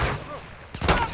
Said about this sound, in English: Where them shots coming from?